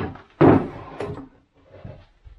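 Metal drawer slides on a mobile storage workbench being handled, giving a sharp clattering knock followed by a few lighter rattles and softer scrapes, close and alone.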